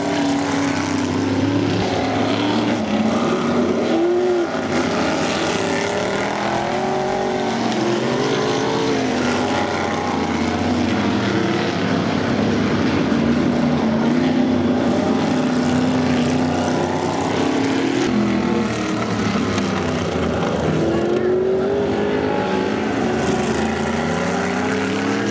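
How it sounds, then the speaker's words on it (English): Vintage race cars warming up on the Trail-way Speedway track, heard from the grandstand as a steady, continuous engine drone with shifting pitch as cars circle, no talking over it. "the vintage cars are out on the track warming up"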